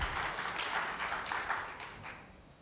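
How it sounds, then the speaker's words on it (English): An audience at a wellness tourism conference panel breaks into a short burst of applause that fades out within a few seconds. "You got some applause."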